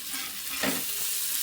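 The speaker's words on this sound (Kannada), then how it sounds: "ಮತ್ತಿ ಮೀನ್ ಫ್ರೈ," Sardine fish frying in a pan gives a steady hiss of sizzling oil, with a brief louder stir or shuffle midway, close up and with no voices.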